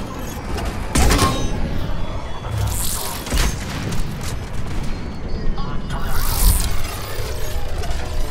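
Heavy gunfire and booming blasts from a Mass Effect 3 firefight, with dense bursts and sharp impacts spread throughout, loud and close, while a voice talks at times.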